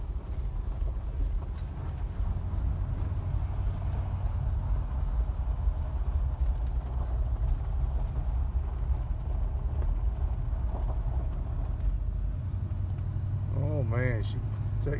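A 1977 Ford LTD rolls along with a steady low engine drone and road rumble heard from inside the car, someone talking over it throughout, and a short whining squeal near the end.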